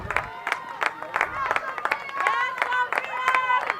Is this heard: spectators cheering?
yes